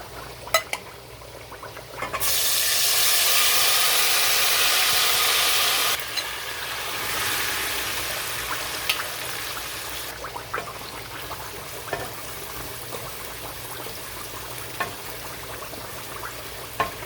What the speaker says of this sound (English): I'm going to fry it until the onions are ready.